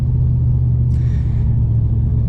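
A 1990s HSV Australian muscle car rumbles steadily from inside the cabin while driving, a loud, constant low engine drone with a brief faint whine over it.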